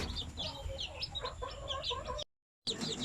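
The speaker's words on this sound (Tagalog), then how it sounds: "yung ating mga sisiw" Several baby chicks peep in rapid, high-pitched chirps close by, a steady overlapping chatter that cuts out briefly to silence before resuming.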